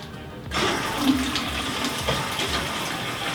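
Water gushes steadily from a line just purged of air, starting abruptly after a brief quiet moment and continuing as a loud, splashing flow like an open tap.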